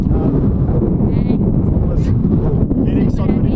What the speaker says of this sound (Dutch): Die wind is besonder sleg hier bo, jy kan hoor.